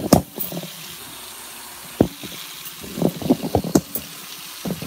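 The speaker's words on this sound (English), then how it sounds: "So now I'm finna wash these and soak them in some water" Tap water running into a kitchen sink as green beans are washed, with a soft background flow and clattering knocks and splashes as the beans are handled.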